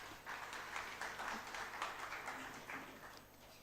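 Audience applause welcoming a lecturer onto the dais at a health and safety lecture, a steady spread of many hands clapping across the room for a few seconds before thinning out, with no talking over it.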